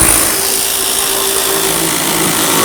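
A power tool whirs continuously and loudly up close while snugging the mounting bolts on the windshield wiper motor of a 2002–2008 Dodge RAM 1500, a steady high-pitched run with no talking.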